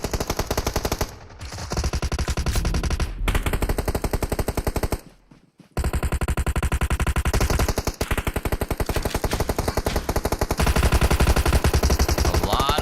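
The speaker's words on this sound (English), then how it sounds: "Gunfire, and I think a lot of random gunfire" Random gunfire in a PUBG Mobile battle royale match: dense, sustained automatic bursts rattling almost continuously, with two brief gaps, loud and close throughout.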